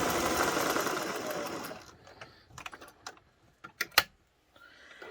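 A sewing machine stitches fabric for a throw pillow, a fast whirring run for about two seconds, then stops, followed by sparse clicks and mechanical knocks as the work is adjusted.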